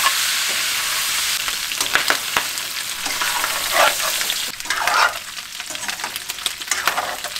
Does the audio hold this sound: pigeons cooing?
no